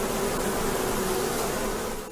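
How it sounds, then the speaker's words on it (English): Bees buzz in a dense, continuous drone with a steady low hum, close and unbroken throughout, with no voices. "Therapists claim they use energy created by bees flapping their wings."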